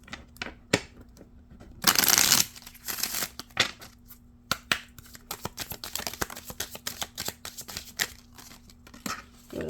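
Close, quiet shuffling of a tarot deck, opening with a long riffle burst and followed by a steady patter of soft card slaps and flicks, with no voices.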